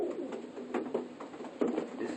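A young racing pigeon of the dark check Bastine line coos close by in a loft, soft throaty murmurs repeating in uneven bursts against a steady background hum.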